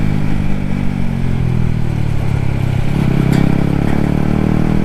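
A Yamaha MT-15 motorcycle engine runs loudly and up close during a ride with a passenger on the back, giving a steady, dense rumble and a slight rise partway through, with no talking.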